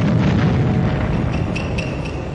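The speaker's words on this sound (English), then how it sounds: "We heard an explosion." Explosion sound effect for the Pearl Harbor attack, a loud, rolling boom that fills the whole moment and slowly fades without speech.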